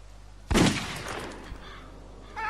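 A single loud gunshot rings out in The Walking Dead video game, a sharp blast followed by a long decaying echo, with a faint distant crackle near the end.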